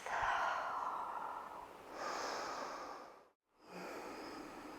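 A deep breath during a low-impact yoga session: a long, airy inhale followed by a slow exhale, then a brief silence and another soft breath, close and fairly quiet, no talking.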